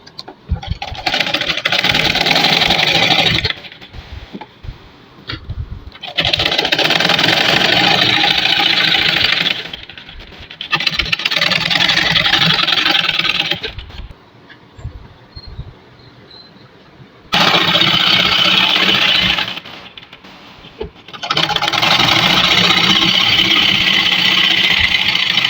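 A sewing machine stitches the armhole seam of a kameez in several long, fast whirring bursts separated by quiet pauses, close and loud.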